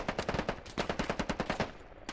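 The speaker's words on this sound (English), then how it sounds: "They're taking shots here." Rapid automatic gunfire in the tactical shooter Squad: a steady burst of about twenty evenly spaced shots at moderate distance, with a brief gap partway through before the firing resumes.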